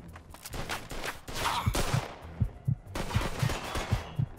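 Gunfire in the Mafia 2 video game: a rapid run of sharp, close shots in bursts, trailing into a series of evenly spaced single shots, loud with no talk over it.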